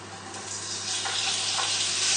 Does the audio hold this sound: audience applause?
no